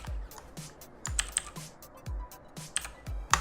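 Computer keyboard keys are struck in quick bursts of clicks while someone plays the typing game ZType, close and fairly soft with a steady low thump under the keystrokes.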